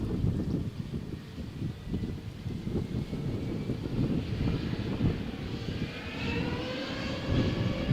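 A Brussels Airlines airliner runs up its engines for takeoff on Runway 13 at Malaga Airport on a stormy morning, a steady broad roar under wind buffeting the microphone, with a rising whine building toward the end.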